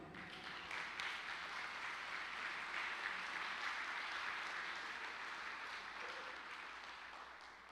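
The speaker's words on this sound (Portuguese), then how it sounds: "Aplauda ao Senhor." Church congregation applauding a pastor during a Brazilian healing service, a steady, broad wash of many hands clapping that fills the room at moderate distance, sustained without pause and with no clear talking over it.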